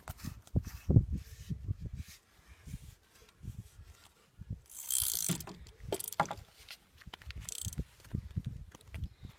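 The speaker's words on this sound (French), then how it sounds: "Après, il faut remettre le moulinet dans la canne. Donc on serre bien." A fishing reel being fitted and screwed tight onto a carp rod, heard as close clicking, ratcheting and small mechanical scrapes in short irregular bursts with quiet gaps.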